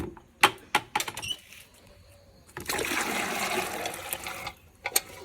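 Some knocking and clatter come first, then water is poured steadily into a container for about two seconds to dilute oilcake fertilizer for garden plants, ending with a couple of light knocks.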